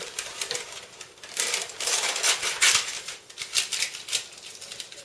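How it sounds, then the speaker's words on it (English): Scissors snip into the corners of baking paper lining a brownie tin, a run of quick, crisp cuts in close succession, fairly near and alone without talk. "we'll put 2 splits in it with the scissors so that it sits in properly"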